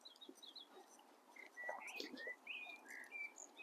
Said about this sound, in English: It's not particularly sunny this afternoon, but the birds are singing.